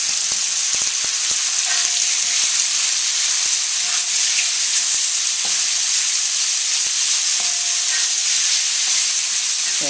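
Bok choy and pork stir-frying over the highest heat with instant ramen and shrimp in the pan, a loud steady sizzle with scattered clinks and scrapes of stirring, no voices.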